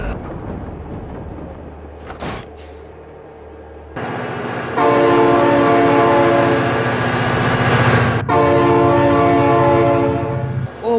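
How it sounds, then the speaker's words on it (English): A train rumbles past close by as its horn sounds in long, loud, sustained blasts with a short break, over the heavy roar and clatter of rail cars. "Oh my God, train!"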